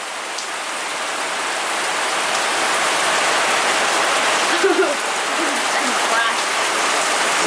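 Heavy spring rain pours down in Seattle, a dense, loud, steady hiss of drops hitting surfaces, with a brief faint voice partway through.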